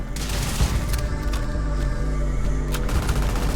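Sustained crackle of gunfire in a Starfield combat scene, rapid shots layered over a droning musical score, loud and continuous throughout with no talking.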